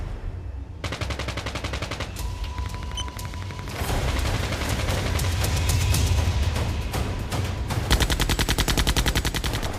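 A 7.62 mm machine gun mounted on a Russian Marker unmanned ground vehicle fires long, rapid bursts. The loud, dense rattle of gunfire runs almost without pause.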